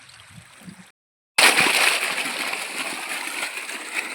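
Irrigation water gushes into a farm field channel on a sloping plot, a loud continuous splashing and sloshing flow that bursts in after a brief silence and keeps running steadily up close.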